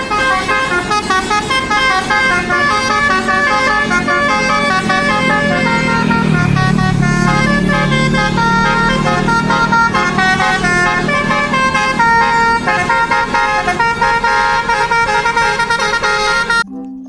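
A Pandawa Herbie bus passes with its horn sounding a loud, continuous melodic tune of layered tones, joined by a swelling engine rumble midway, all close and steady for about seventeen seconds.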